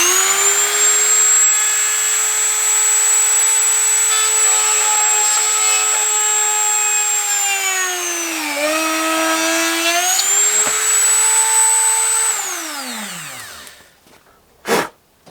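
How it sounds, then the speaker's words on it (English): Dremel rotary tool run at maximum speed, drilling a hole through a soft copper penny: a loud, steady high-pitched motor whine that dips briefly mid-way, then winds down and stops, followed by a short knock. "You want the Dremel really fast."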